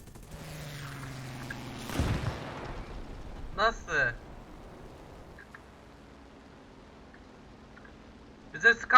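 In the War Thunder air combat game, the player's own plane blows up with a sharp booming explosion, followed by brief crackling bursts over quiet engine drone, while someone talks.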